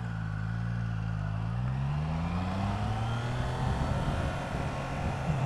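A 2021 Triumph Trident 660 motorcycle pulls away in second gear, its engine note climbing steadily in pitch as it accelerates, loud and close throughout.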